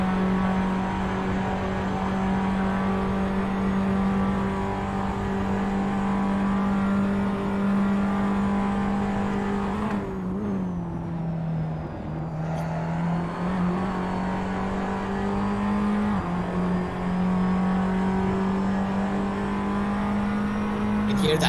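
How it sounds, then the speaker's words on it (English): Race car engines roar steadily at a distance along a track's main straight, dipping and shifting in pitch as the cars downshift with clunking gear changes, with a voice talking over them. "You can hear the downshifts and the way the gears just clunk as they get into position."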